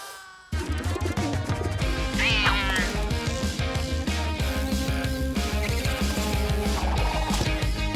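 Cartoon cats meow and yowl in a loud, busy stretch, their cries layered over bouncy background music.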